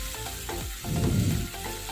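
Masala for parwal paneer being stirred in a pan after half a cup of water is added, wet scraping and sloshing with a brief louder bubbling surge, close and without talk.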